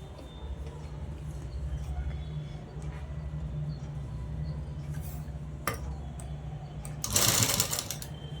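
An electric sewing machine stitches dress material in a steady close whir with a low motor hum, broken by short clicks and a brief louder clatter near the end, while someone talks over it.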